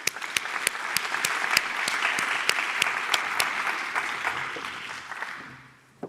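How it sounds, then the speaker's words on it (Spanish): Conference audience at a European cybersecurity event clapping, a sustained round of applause with distinct near claps punctuating the crowd before it fades out, one last clap at the close. "Démosle un aplauso a Asier."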